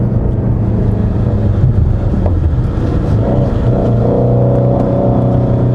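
A 2017 Ford Mustang GT350 is driven hard, its engine a loud, sustained low rumble with layered harmonics and slight shifts in pitch, heard from inside the car without talking.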